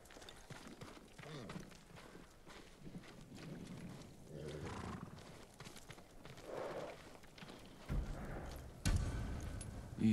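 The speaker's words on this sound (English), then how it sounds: "They're samurai horses." Samurai horses in the Ghost of Tsushima video game, with hoof clip-clop, snorts and a neigh-like outburst rising near the end over a busy game soundscape with a faint voice.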